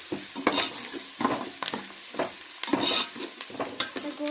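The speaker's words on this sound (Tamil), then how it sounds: "அது கோல்டன் ப்ரௌன் ஆகிற வரைக்கும் நம்ம கொஞ்சம் வதங்க வைக்கலாம்." Chillies sautéing in a pan as they turn golden brown, a steady close sizzle and crackle broken by repeated scraping stirs of a utensil, with no talking.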